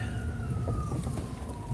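Ambulance siren on a highway, a steady wailing tone sliding slowly downward as it passes, heard from inside a car over constant low road rumble.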